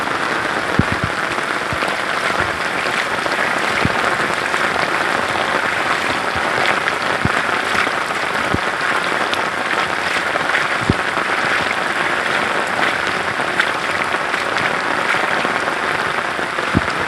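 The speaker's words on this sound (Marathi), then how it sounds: "आता संध्याकाळचे 5 वाजले आणि पावसाला सुरुवात झाली आहे बघा" Steady, dense rain falls on a Konkan village in Ratnagiri at evening, an even hiss of drops on surfaces throughout, with a few louder close splats and no voices.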